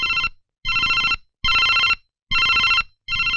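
A telephone rings loudly in a dramatic indoor scene, repeating bursts of electronic bell tone with short silent gaps between them, four full rings and the start of a fifth, with no talking.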